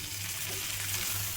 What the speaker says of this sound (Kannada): ಒಂದು ಕೈ ಹಿಡಿಯಷ್ಟು ಕೊತ್ತಂಬರಿ ಸೊಪ್ಪು, ಪುದೀನ ಸೊಪ್ಪು ಹಾಕ್ಕೊಂಡು ಚೆನ್ನಾಗಿ ಫ್ರೈ ಮಾಡ್ಕೊಳ್ಳಿ.